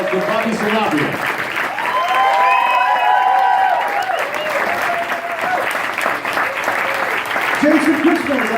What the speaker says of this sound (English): Welcome round of applause to Bobby Sanabria.